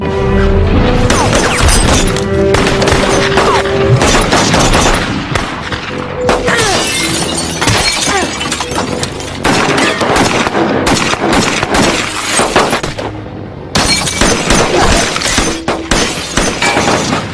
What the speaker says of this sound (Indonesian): Kemudian jiwa PUBG Angela keluar hingga ia mengambil senapan dan mulai membantu Kelton melawan kelompok Garcia